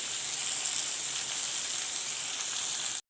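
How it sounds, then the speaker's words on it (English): Tomatoes and onion frying in a pan for egg bhurji, giving a steady, close sizzle and hiss that runs evenly before cutting out abruptly at the end. "Let the tomatoes cook with the onion. Let it fry."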